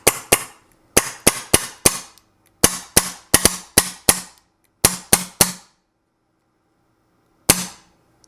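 A Mini GS paintball marker fires repeatedly while its velocity adjuster is backed out: a dozen or so sharp, loud pops in irregular quick groups, separated by silence, with one final shot after a longer pause.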